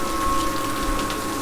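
A Bristan power shower on a tank-fed system runs at full flow: a steady, close hiss of spraying water over a low pump hum, constant throughout with no talk.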